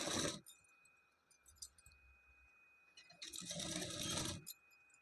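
A sewing machine stitching the elbow-length sleeve of a blouse, running in two short loud bursts separated by quiet pauses, close and alone.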